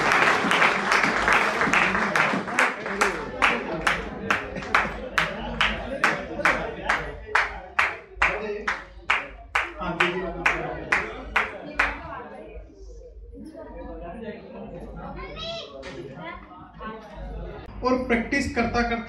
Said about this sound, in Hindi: पहली बार जो आए एक बार ताली बजाइए